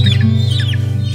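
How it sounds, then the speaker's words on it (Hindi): Chicks clucking and peeping while being caught by hand, a steady close chatter of small chirps over a low, pulsing hum. "सारे चूजे भाई हम लोग ने पकड़ लिए हैं, बाकी सारे अली भाई ने पकड़े"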